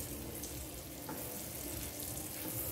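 Cheese browns in a frying pan with a steady, soft sizzle and crackle that stays even and fairly quiet throughout.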